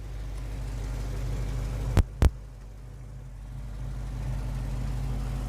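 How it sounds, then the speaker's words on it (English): A 1989 Chevrolet S10 V8 pickup idles with a steady, low, throbbing rumble, broken midway by two sharp clicks in quick succession, with no voices. "She's been idling for a few minutes."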